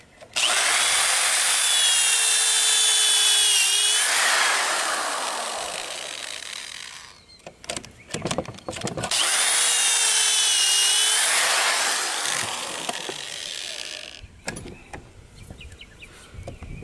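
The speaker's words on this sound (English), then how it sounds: "and then drill my holes." A power drill whines loudly through two long boring runs, the pitch sagging as it bites, with clattering handling noises between and after.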